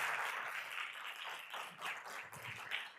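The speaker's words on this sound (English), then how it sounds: "I even got a round of applause, which I wasn't expecting." A seated audience at a UIC Barcelona talk breaks into a round of applause, dense steady clapping that carries on for about three seconds with no voices over it.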